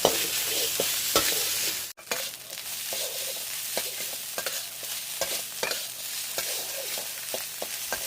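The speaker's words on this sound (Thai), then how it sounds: "ผัดคลุกเคล้าให้เข้ากัน ยีให้ข้าวกระจายกันอย่าให้ติดกันเป็นก้อนนะครับ" Rice and diced ham being stir-fried in a hot pan, with a steady sizzle and repeated scraping, stirring strokes of a spatula breaking up the rice, close and continuous after a brief opening pause.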